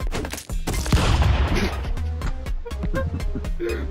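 Gunfire in the Stick Fight game rattles out in chaotic overlapping bursts with a few booming hits, followed by scattered sharp shots and clanks, loud and close throughout.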